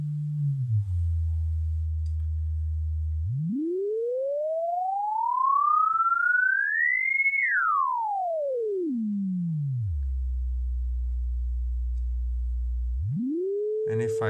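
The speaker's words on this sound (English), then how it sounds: "if I take the output of the first oscillator and I connect it to the main module and turn up the volume, I should probably hear that" Synthesizer oscillator tone from a 3dPdModular patch using an imported Automatonism module: a clean sine pitch holds low, sweeps smoothly up to a high peak and back down, holds low again, then jumps up near the end, steady and alone.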